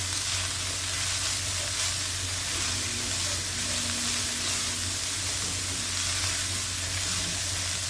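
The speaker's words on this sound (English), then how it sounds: "I just want to get these onions a little translucent" Onions frying in a pan, a steady loud sizzle and hiss that continues unbroken without talk.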